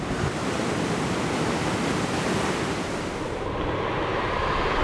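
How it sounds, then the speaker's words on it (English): Ocean surf breaks steadily along a tropical coastline, a dense, continuous wash of waves that holds loud and unbroken, close by, with no voices over it. "We found it! Waves! Surfing! It's barreling, 3 foot."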